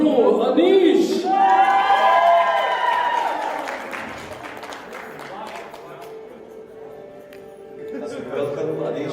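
At a wedding ceremony, guests clap and cheer for the groom, Anish. The applause is loudest right after a voice speaks at the start, then fades to a softer, scattered patter before swelling slightly again.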